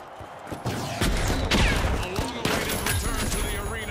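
Rapid cannon fire in the video game The Finals, a dense barrage of sharp booming blasts and thuds in quick succession, loud and close, with a faint voice mixed in.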